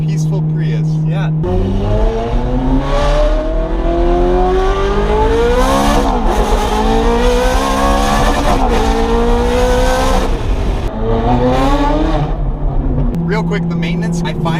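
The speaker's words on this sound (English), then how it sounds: "It goes from being the loudest car on the street" Ferrari Berlinetta engine driving, loud and close, revving up through several rising gear pulls with brief shifts between them, while people talk over the drone.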